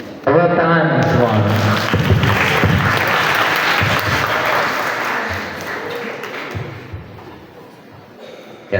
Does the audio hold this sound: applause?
yes